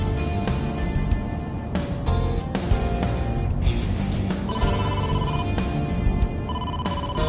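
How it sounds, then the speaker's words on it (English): A phone rings for an incoming call in a PS4 detective video game, a loud, repeated electronic ringing tone over a dense game soundtrack. "incoming call from the boss"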